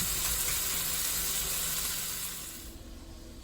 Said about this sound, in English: I don't think you guys need a tutorial on how to fry ground meat, but yeah, I just break it up with my spatula